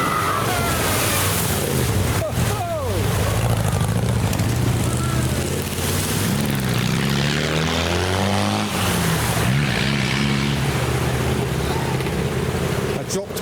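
A Land Rover Defender and a Discovery plough through deep ford water, throwing up a loud, continuous rushing splash over a droning engine, with voices faintly audible beneath.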